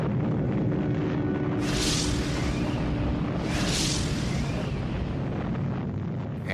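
A nuclear weapon test explosion rumbles as a loud, sustained roar filling the whole clip, with two broad swelling blasts rising out of the continuous low rumble.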